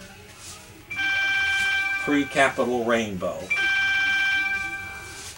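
An electronic telephone rings in a room with a thrift-store vinyl record collection, its steady warbling tones sounding twice, separated by a stretch where someone speaks over it.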